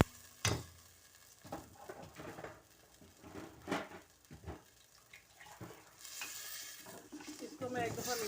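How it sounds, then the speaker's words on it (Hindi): Rice for aloo pulao is stirred in a pot, with scattered soft scrapes and knocks against the metal over a faint sizzle, close but quiet, ending in a louder stretch of stirring. "इसको मैं एक दफ़ा मिक्स करती हूँ।"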